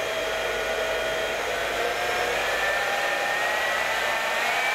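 An ONYX professional hair dryer runs at full power, a steady, loud whooshing blower noise with a faint motor whine that holds constant throughout.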